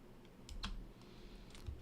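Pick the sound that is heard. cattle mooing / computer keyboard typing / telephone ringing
computer keyboard typing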